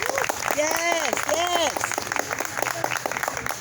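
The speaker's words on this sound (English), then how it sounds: "Round of applause, please, incumbent Assembly member." An audience at a District 84 Assembly candidates' forum applauds for the incumbent Assembly member, a short burst of clapping heard under a voice speaking over it.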